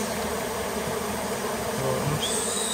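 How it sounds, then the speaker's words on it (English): Dense, steady buzzing of many honeybees close by inside a roof, a continuous droning hum with no voices. "There's quite a lot of bees in here."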